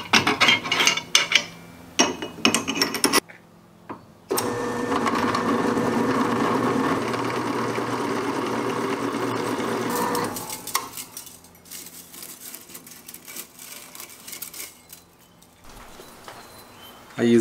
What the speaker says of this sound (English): Use my die grinder to open it up a little bit more.